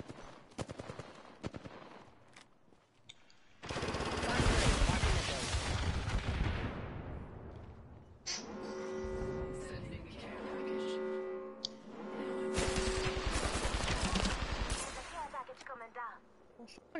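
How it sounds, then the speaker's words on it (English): Heavy gunfire in the battle royale game Apex Legends, with loud sustained bursts of rapid shots, a short break, then more bursts of automatic fire and ringing tones, all close and dominant, with a player talking in between. "Shooting at me"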